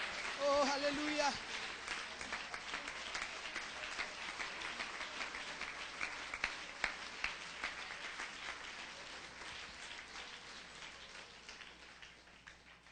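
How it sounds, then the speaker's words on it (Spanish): A church congregation applauds steadily, a dense wash of many hands clapping that carries on for the whole stretch and slowly fades toward the end, with a brief voice near the start. "Dele ese aplauso a la presencia del Señor"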